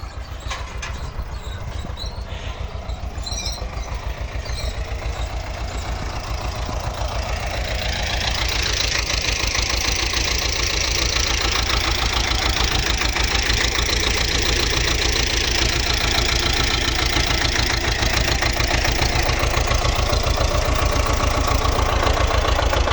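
A cultivator engine chugs continuously between raspberry rows in clay soil, running rough and steady, then growing noticeably louder as it works on. No voices are heard.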